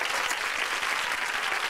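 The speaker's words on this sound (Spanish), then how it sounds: "Este aplauso." An audience applauds at a televised tribute event, dense steady clapping from many hands filling the short stretch, loud and continuous with no talk over it.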